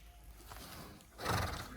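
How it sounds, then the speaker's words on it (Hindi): A horse on a horse farm whinnies loudly in one rising neigh near the end, after a stretch of soft hoof clip-clop and background rustle. "आशिक अली साहब का घोड़ा जिसका नाम जर्नल"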